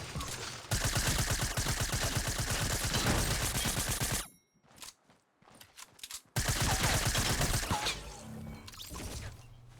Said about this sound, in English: Outside, I'd say around 80 under extreme gunfire.